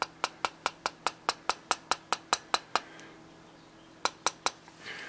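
A hammer lightly taps a spark plug held in the hand to adjust its gap on a Cadillac STS tune-up, giving a quick, even run of about a dozen bright metallic clinks, a pause, then three more taps, close and clear.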